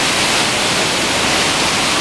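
Tortum waterfall in Erzurum pours in a steady, dense roar of rushing water, broadband and unbroken, loud and close with no voices over it.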